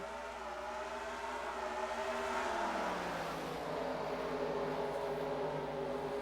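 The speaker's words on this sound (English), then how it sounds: "Pace car is in, and the green flag is waving, and we're racing once again" Race cars in a NIRA MacTools Cup Series sim race at North Wilkesboro Speedway accelerate together at a restart, a loud, dense engine roar of several cars whose layered pitches climb and shift steadily.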